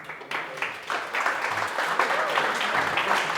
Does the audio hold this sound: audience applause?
yes